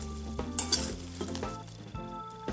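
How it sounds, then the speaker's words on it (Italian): Spoon stirring milk into bread pieces in a bowl, soft wet squelching movements with a few light metallic taps, close and quiet, no voices. "mescolate un po'. In questa maniera si distribuisce uniformemente il latte, un pochino alla volta e girate"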